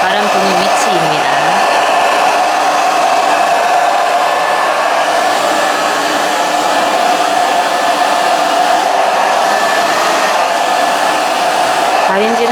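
A hair dryer blows steadily onto a comb held upright during a spaniel in-curl blow-dry for a hairdresser licensing exam, a loud continuous whooshing hum that holds for about twelve seconds.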